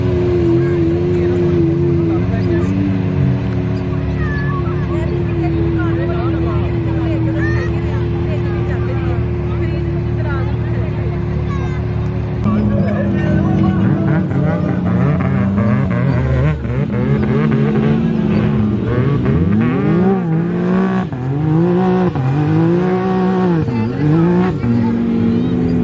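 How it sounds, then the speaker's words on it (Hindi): A dune buggy engine drones and revs at night in the desert, a loud steady hum that shifts into repeated rising and falling revs partway through, with someone talking over it. "बग्गी जो होती है डेजर्ट में बेसिकली चलाने के लिए गाड़ी होती है।"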